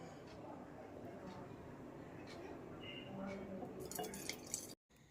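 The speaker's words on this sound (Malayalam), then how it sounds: "നമുക്കിത് ഇനി ഭരണിയിലേക്ക് ഒഴിക്കാം." Melted buffalo ghee pours and drips into a jar, a soft steady trickle with a few clinks near the end.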